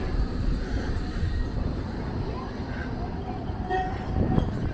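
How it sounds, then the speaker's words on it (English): A 10-ton tram rumbles through Blackpool town centre, a steady heavy low roar of wheels and motor that swells slightly near the end, with street noise around it. "there's a bloody 10-ton tram coming through"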